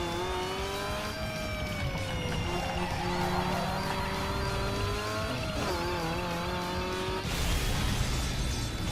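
Car spinning out in the racing game Need for Speed Underground 2, a loud close engine drone wavering in pitch as the car slides, then a brief surge of noise as it loses grip near the end.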